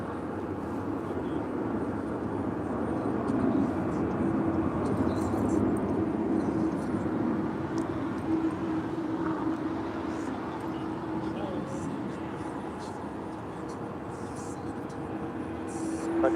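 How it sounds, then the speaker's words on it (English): A Sun Country Airlines Boeing 737-800 jet arriving at LAX, a steady broad engine roar holding at moderate distance throughout with no voices over it. "Also just had Sun Country Airlines. Flight 421 coming in from Minneapolis is 737-800."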